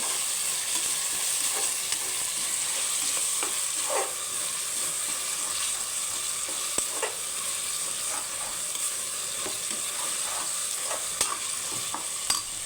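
Mint leaves and chicken pieces frying in a pan over spiced masala, with a steady close sizzle and occasional stirring clinks, no talk.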